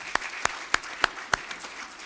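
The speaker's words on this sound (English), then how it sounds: "Let's give her a round of applause for" Slow, evenly spaced claps at a city council meeting, five crisp hand claps about a third of a second apart over a steady room hiss.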